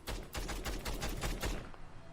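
Rapid gunfire from a weapon in Fallout 4 with the unmodified vanilla sound, a dense burst of about ten loud shots in quick succession that stops abruptly with no echo tail.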